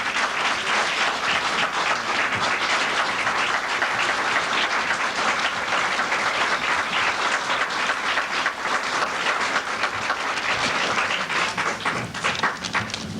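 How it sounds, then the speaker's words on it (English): Sustained, dense applause from a lecture audience welcoming a scholar introduced to speak on Blacks in science, steady and loud for the full stretch with no talk over it. "Let's give him a warm round of applause."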